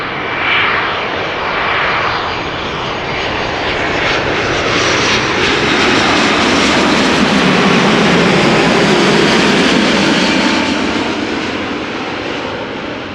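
A five-year-old airliner, first flown in August 2018, arrives at Amsterdam Schiphol's Polderbaan runway after a long flight from Austin. Its engines give a loud, sustained roar that swells and holds steady throughout, with no talking.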